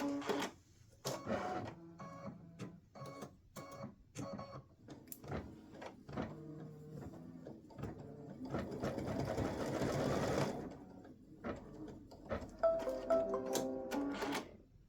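A home embroidery machine stitches an appliqué elf hat and legs design for a T-shirt or sweatshirt, running in rapid mechanical bursts with short pauses and a denser continuous stretch midway, close and fairly loud.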